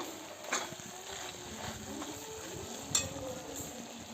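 Pork stirred in a hot frying pan, with a steady low sizzle and a few soft scraping clatters from the spoon against the pan, close and fairly quiet with no voices.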